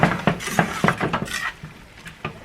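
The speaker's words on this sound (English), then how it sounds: "I just gotta mix this all up here" A utensil scrapes and clanks against a pan while mixing steak sandwich ingredients with fresh-cut peppers, in a quick series of metallic knocks and clinks, close up and without talk.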